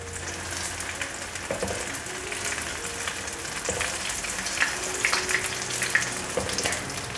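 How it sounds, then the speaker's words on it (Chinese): Taro pieces with puffed rice frying in a pan, a steady close sizzle with occasional crackles and small pops, continuing without pause. "继续让它煎，两面都煎成焦黄色了"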